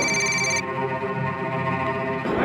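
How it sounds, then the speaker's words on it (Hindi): A telephone ringing in a dramatized Hindi crime scene, a loud electronic ring with bright repeating tones that cuts off briefly, then resumes as another ring begins at the end. "तभी पाक्या का फोन आया साहब मुझे।"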